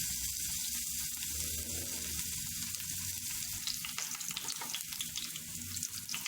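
Garlic and ginger paste sizzles and crackles steadily in hot oil, a continuous loud frying hiss with occasional stirring, and no voices.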